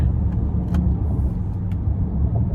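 A 2024 Buick Enclave Premium AWD with its 3.6 engine downshifts in low gear while driving, giving a steady, close road and engine rumble heard from inside the cabin, with faint clicks and no talk.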